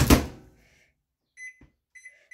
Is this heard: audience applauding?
no